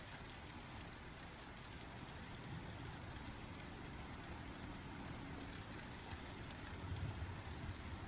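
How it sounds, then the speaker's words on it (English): Rain falls inside a building in the space game Star Citizen, a steady, even hiss of dense droplets with a low rumbling undertone, continuous and unbroken throughout, with no voices. "I love that it's raining in the building."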